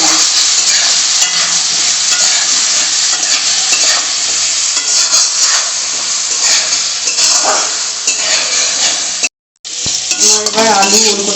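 Potatoes and elephant foot yam stir-fry with salt and turmeric, a steady loud sizzle with spatula scraping throughout, broken by a brief silent gap near the end before the frying resumes.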